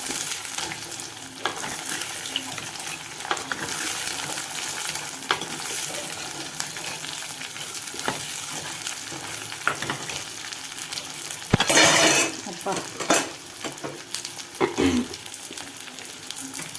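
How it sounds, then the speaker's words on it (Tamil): Ridge gourd and onions sauté in a hot, smoking pan, a steady dense sizzle with scattered clicks of a spoon stirring and a louder burst of crackling partway through, close and without talk. "சட்டி பீக்கங்காய் போட்டு லேசாக ஒரு வதக்கு வதக்கிடுவோம்"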